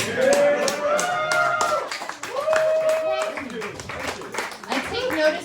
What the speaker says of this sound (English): to the men who clapped, because then I know you're low effort